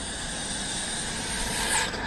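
A homemade RC jet engine buggy idles at barely any throttle, giving a steady, loud jet whine and rushing roar that holds evenly throughout with a slight swell near the end.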